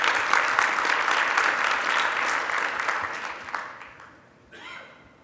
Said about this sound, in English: It deserves a big round of applause.